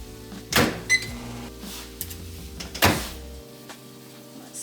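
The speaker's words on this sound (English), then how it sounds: "And then I'm gonna place this in the microwave" Microwave oven in a home kitchen heating a covered dish, with a hum under clicks and two sharp door or button clunks, near and moderately loud, then quieter running.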